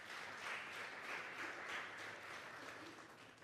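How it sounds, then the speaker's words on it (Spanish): A church congregation at a Sunday morning service claps together, a faint, distant wash of steady applause that swells slightly and fades near the end. "Vamos a darle un fuerte aplauso pues al Señor."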